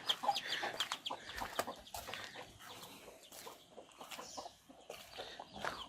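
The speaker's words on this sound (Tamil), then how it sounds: "கோழியெல்லாம் வளர்த்துட்டு இருக்காங்க பாருங்க" Several hens cluck and chatter close by in an irregular stream of short calls, with outdoor farmyard ambience behind them, in Megamalai, Theni District.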